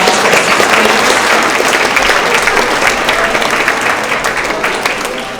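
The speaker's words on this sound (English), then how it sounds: "Go ahead and give a round of applause for 6th" Loud, sustained applause comes from a school audience at a spring award assembly for sixth, seventh and eighth graders. Dense clapping fills the room and fades slightly toward the end.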